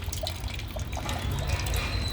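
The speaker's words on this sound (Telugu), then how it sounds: "ఆ టబ్బుని ఇలా వంచితే ఇట్లా దారలాగా వాటర్ లాగా గారుతుంటాయి." Water trickling and dripping as a tub is gently tilted, a steady close liquid dribble with small splashes over a low background rumble, no voices.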